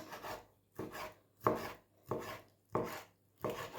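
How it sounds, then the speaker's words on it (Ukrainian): A knife cuts chicken fillet into small squares on a wooden board: six crisp, evenly spaced chops, close and distinct, with brief silences between strokes. "Ось на такі невеличкі квадратики нарізаємо."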